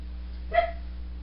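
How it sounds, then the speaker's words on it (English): A single short yip from Oz, a small Chiweenie dog, heard once indoors over a steady low hum, brief and moderately loud. "Oz, no barking."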